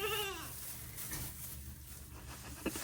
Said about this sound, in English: And just the fat goat Dash.